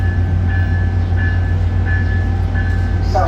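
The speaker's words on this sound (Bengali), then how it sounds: "লোকাল ট্রেন প্রতিটা স্টেশনে থামে" Tri-Rail local commuter train at a Florida station, a loud continuous low rumble with a steady engine drone throughout and a faint higher tone near the end.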